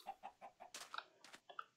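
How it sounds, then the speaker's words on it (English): Video game chickens being killed by the player, a series of quiet, rhythmic clucks with a few sharper squawks and short bursts of noise, heard faintly and alone. "As you can see by my killing of chickens"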